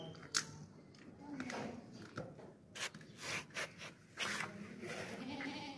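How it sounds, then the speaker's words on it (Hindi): A big, heavy long-eared desi goat bleats several times in short, sharp calls with quiet rustling and shuffling in between, heard close at a fairly low level. "लंबे कानों वाली ना देसी बकरी है"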